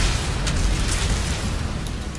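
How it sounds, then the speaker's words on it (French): Grenade blast in Mass Effect 2 (Legendary Edition), a loud low rumbling boom with crackling debris that stays dense through the whole short stretch. "Grenade."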